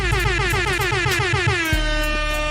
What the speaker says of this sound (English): We gonna throw a couple air horns out there.